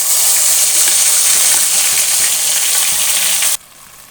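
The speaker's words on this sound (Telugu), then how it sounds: "అల్లం వెల్లుల్లి ఉల్లిపాయ పచ్చిమిరపకాయ పేస్ట్ని ఇలా దోరగా వేపుకోవాలండి" Ginger, garlic, onion and green chili paste fries in about two tablespoons of hot oil with a loud, steady, close sizzle that cuts off abruptly near the end, leaving a faint hiss.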